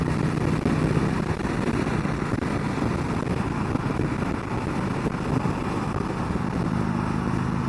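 A 2020 Indian Chief Vintage motorcycle rides along with a steady, loud engine drone and wind rush that hold unbroken from start to finish, with no voices.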